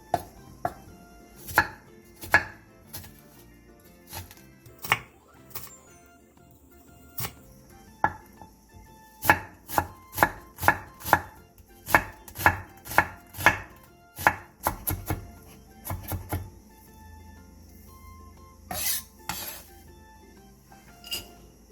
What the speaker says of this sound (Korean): 양파 2분의 1개를 다져주세요. 화면처럼 칼집을 넣어준 뒤 쫑쫑 썰어주게 되면 굳이 힘들게 다지지 않아도 돼요.